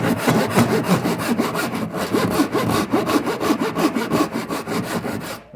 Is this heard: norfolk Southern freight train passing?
no